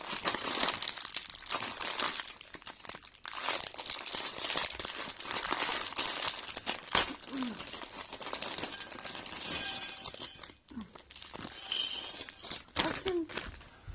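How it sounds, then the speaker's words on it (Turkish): LEGO Ninjago plastic bags are torn open and handled close by, giving continuous crinkling and rustling with occasional sharper tears and light clicks of loose parts. "Başlıyorum paketleri açayım."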